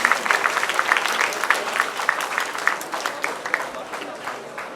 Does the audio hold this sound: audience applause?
yes